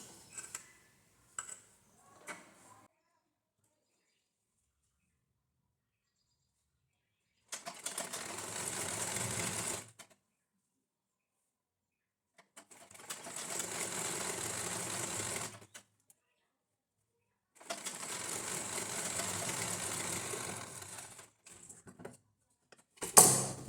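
A sewing machine stitching a folded edge on a blouse lining runs in three steady bursts of rapid whirring, each a few seconds long, with quiet pauses and faint handling clicks between them.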